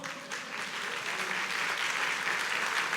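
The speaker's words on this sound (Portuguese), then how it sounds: "Aplauda o Senhor." A church congregation applauds together during a sermon, a dense, steady wash of clapping that swells slightly and holds loud and close across the full stretch.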